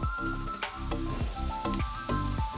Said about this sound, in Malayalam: ആ പാൽ ഇതിലേക്ക് ഒഴിച്ചു കൊടുക്കാം